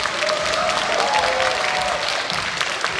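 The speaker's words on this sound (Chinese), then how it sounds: "鼓掌吧。" Audience applause at a Chinese New Year gala performance in Seattle, following a magic trick with a rope; dense, steady clapping from a large crowd fills the whole stretch at close range.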